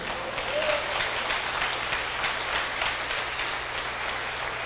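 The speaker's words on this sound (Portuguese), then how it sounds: "Se eu fosse você, eu dava logo uma salva de palmas para Jesus." A church congregation applauds, with steady, dense clapping that fills the whole stretch at a moderate level and no voice on top.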